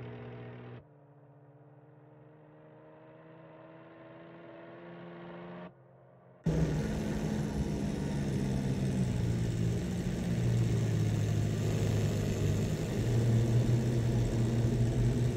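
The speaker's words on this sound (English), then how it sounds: "that engine must be about to explode now" A race car engine drones and hums steadily at first, then surges abruptly into a loud, sustained high rev that holds, with a bright mechanical whine and no talking.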